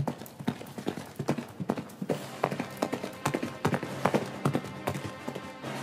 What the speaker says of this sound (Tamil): அதைத் தொடர்ந்து பல குதிரைகளின் குளம்படி சத்தமும் கேட்டது